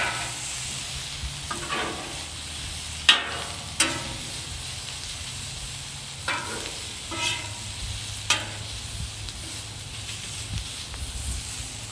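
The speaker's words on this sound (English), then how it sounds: "And now we can just start working it, mixing it, getting all those different flavors together." Fajita meat and vegetables sizzle on a Camp Chef griddle with a steady hiss, while a spatula scrapes and clinks against the hot surface at irregular moments.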